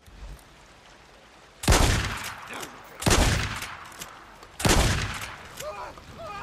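Gunfire in the video game Days Gone: three loud, sharp bursts of shots spaced about a second and a half apart, each with a short fading tail over quiet game ambience.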